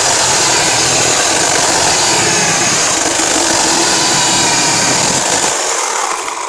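A cordless chainsaw runs loud and steady at close range with a constant high-pitched whine for about six seconds, then its low rumble drops away near the end.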